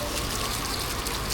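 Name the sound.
water poured to wash feet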